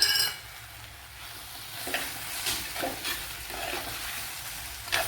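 Ivy gourd and tomato sizzle and fry in a pan while being stirred, a steady close crackle with a few louder scrapes and bursts of stirring.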